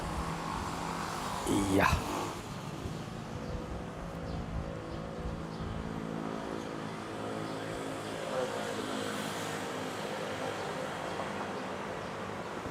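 A DHL Airbus A330 takes off from a runway at Manila airport, its jet engines producing a steady distant roar that carries throughout, with a brief voice near the start.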